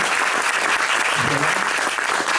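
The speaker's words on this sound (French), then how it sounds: "Je crois que nous pouvons les applaudir." Audience applause fills the room at the close of a talk, a dense, steady clapping from many hands that holds at an even level from start to finish.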